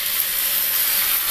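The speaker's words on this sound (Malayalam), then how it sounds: "ഇതിലേക്ക് നമ്മൾ വെന്തിരിക്കുന്ന സ്റ്റോക്ക് ചേർക്കാം." Steady, loud sizzling hiss as stock is poured into a hot pan of cooked chicken and onions, a dense, continuous spitting with no break throughout the short stretch and no talking.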